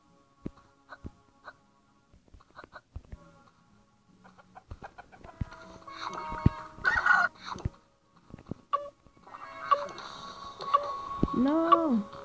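Chicken clucks from the video game Scrappers, a run of short, bright calls over game sounds, with a voice talking through much of it.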